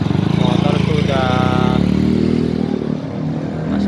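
A motorcycle engine runs steadily on a flooded road, a continuous close engine drone with water splashing around it, while a person talks over it.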